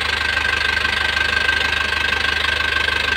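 An engine idling after its first start in four years, a loud, steady, close mechanical hum with an even rapid pulse and no talking.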